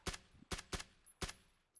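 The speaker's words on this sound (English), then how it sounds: "Nobody having a clue where these shots are coming from." Four sharp gunshots crack out in PUBG, loud and close, spaced unevenly over under two seconds with brief quiet gaps between them.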